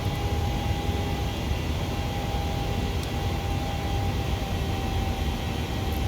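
PMDG 737 airliner in the MSFS simulator climbing out after takeoff, a steady, even jet engine roar with a faint constant tone, unbroken for several seconds with no voices.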